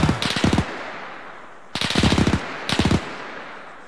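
Machine gun fire in a World War II battle in Arma 3 comes in three quick, punchy bursts of rapid shots with short pauses between them, loud and fairly close, with no voices.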